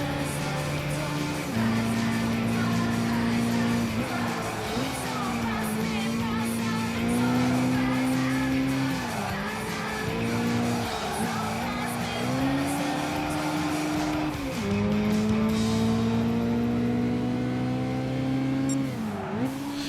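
Race car engine in the Gran Turismo racing game with a turbocharger, a sustained loud drone rising and falling through repeated gear shifts and revs, with brief tire squeal on corners, continuous throughout.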